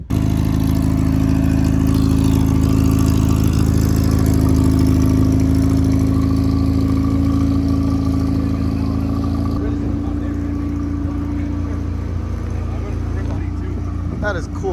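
A heavily built 1000-horsepower Infiniti G35 idles loud and close through a titanium exhaust, a deep steady rumble with strong low harmonics that dips in pitch partway through, then catches a couple of quick throttle blips near the end.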